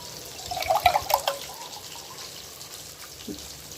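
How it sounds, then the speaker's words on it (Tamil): Water splashes and trickles briefly into a cooking pot, a short burst of pouring followed by quiet dripping. "இப்போ இதில் வந்து தண்ணி சேர்த்துக்குவோம்"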